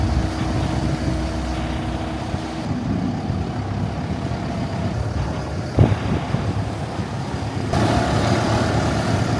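Water taxi motoring along the canals of Venice, its engine a steady low rumble mixed with water wash and wind buffeting the microphone, continuous and fairly loud, with a brief knock near the middle and no talk.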